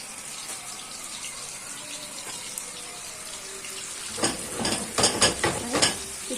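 Kofta drops into hot oil and ghee, a quiet steady sizzle that swells into louder crackling bursts and splashes near the end as the pieces hit the pan.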